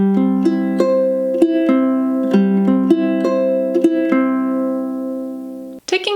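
A plucked ukulele plays a steady, repeating fingerpicked pattern from a song, clear and close, with individual notes ringing over a few chord changes, no voices.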